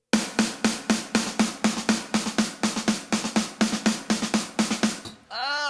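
Drum rhythm counted in sixteenths with the right hand overpowering, producing an even stream of about twenty sharp, loud hits with little variation before a short break, close and alone with no voice.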